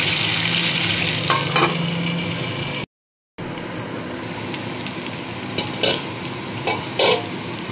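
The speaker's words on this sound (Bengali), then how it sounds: "ঢাকা চাপা দিয়ে আলুগুলোকে ভেজে নেব।" Potatoes for aloo dum fry in a covered pan, making a loud, continuous close sizzle. The sound drops out briefly, and a few clanks and stirring knocks follow.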